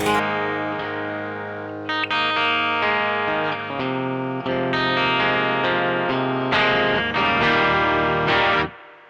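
An electric guitar through Caline pedals strums chords with a slightly gritty, lightly overdriven tone and a touch of chorus and reverb, ringing out before stopping abruptly.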